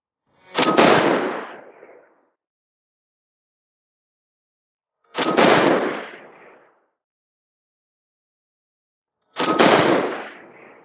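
Three loud 6.5 Creedmoor rifle shots ring out from a fluted 22-inch barrel, spaced about four to five seconds apart. Each sharp blast has a short echoing tail, with silence between shots and no voices.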